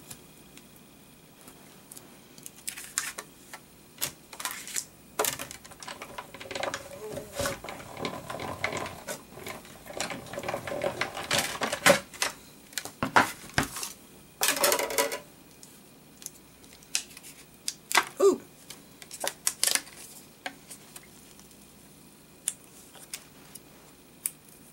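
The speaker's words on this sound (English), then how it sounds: "Now we are going to go ahead and cut this out with the coordinating die." A die-cutting machine cranks paper through with a coordinating die, giving a steady ratcheting, gear-like clicking of moderate loudness that runs for most of the stretch with no talk.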